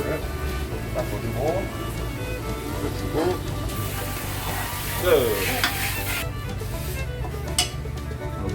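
Webfoot octopus stir-fries in a pan with a loud steady sizzle and frequent scraping stirs from a utensil, close by, while a person talks over it at times.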